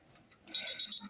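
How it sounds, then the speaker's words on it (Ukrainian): A kitchen timer goes off during baking, ringing as a rapid series of bright electronic beeps in four quick bursts. The sound is close and loud after a quiet start. "Ось, спрацював таймер."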